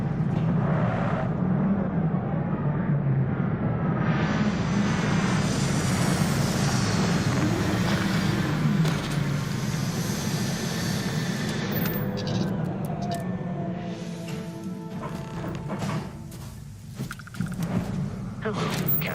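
A spaceship in Starfield rumbles through its landing sequence: a loud, sustained engine roar with rising and falling whines that gradually settles, while a voice speaks over it.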